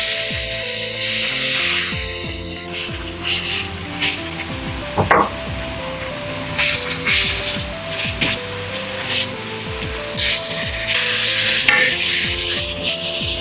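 Ground garlic and chili paste frying in a pan with a bright, steady sizzle and hiss, punctuated by spatula scrapes and occasional louder splattering surges, close and fairly loud, without voices.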